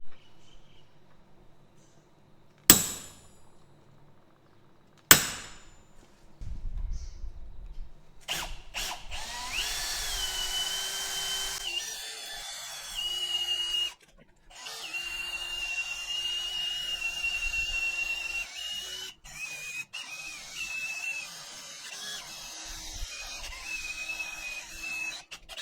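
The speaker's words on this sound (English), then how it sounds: "we'll get it centre popped and drilled." Two sharp metallic centre-punch taps ring out, then a power drill whines steadily into metal in long stretches with brief pauses between.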